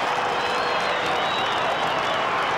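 Hawthorn supporters in a 1997 Australian football match against St Kilda cheering a goal, a continuous loud stadium crowd roar and applause, heard alone.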